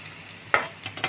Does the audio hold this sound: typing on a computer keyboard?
no